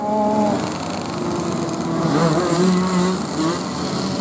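A pack of 125cc two-stroke B-Class race engines on a circuit, a steady loud buzzing drone with rising and falling whines as machines pass, no talking.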